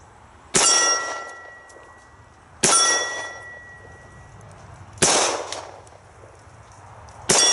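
Citadel Compact 1911 .45 ACP pistol shots striking a steel swinging target, four sharp metallic clangs spaced a couple of seconds apart, each ringing out and fading, fairly loud.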